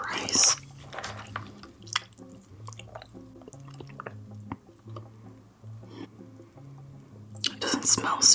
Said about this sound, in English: let's dig into this rice